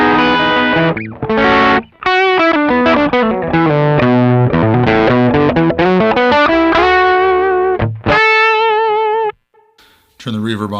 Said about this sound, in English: let's turn on the Sans amp section